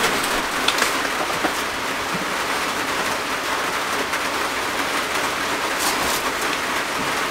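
Steady rain hisses and patters on a used Starex camper van, a dense continuous wash of drops with faint scattered taps, no voices.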